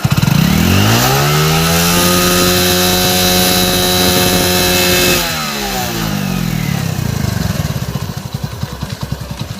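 A Hero Splendor Plus motorcycle engine, freshly rebuilt with a new block, revs loudly and close up as the throttle is opened. The pitch climbs quickly, holds high for several seconds, then drops back to a lumpy, pulsing idle.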